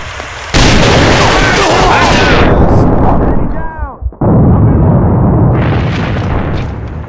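A grenade blast in the shooter game AVA sounds loud and close, with a heavy, sustained roar of explosive noise, a brief dip, and then another stretch of rumbling gunfire and detonations.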